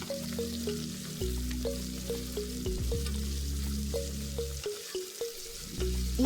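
Pumpkin gravy ingredients sautéing in hot oil with salt, a close, steady sizzle and crackle broken by regular light scrapes and stirring clicks from a spoon in the pan.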